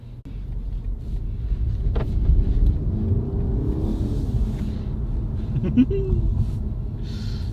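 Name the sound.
BMW 320i G20 car driving off and accelerating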